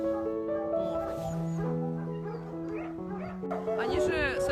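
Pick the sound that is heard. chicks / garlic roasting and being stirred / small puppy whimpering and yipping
small puppy whimpering and yipping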